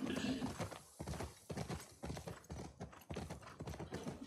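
Horse hooves clip-clopping with a whinny in the video game The Last of Us Part 2, a steady run of close, fairly loud hoofbeats with a voice talking over part of it.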